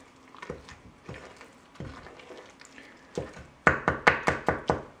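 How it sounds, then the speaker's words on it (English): Cookie dough being stirred together in a bowl, heard as a run of soft, wet thumps and scrapes that build to a quicker, louder series of close, regular strokes near the end. "let's just go ahead and stir that all together"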